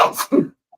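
One sharp, close sneeze with a quick inhaled build-up and explosive release, followed by silence.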